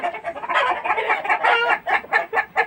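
Healthy young parent-stock hens with trimmed beaks cluck steadily and close up on a poultry farm in Tangail, a dense overlapping chorus of short rhythmic calls with no talking.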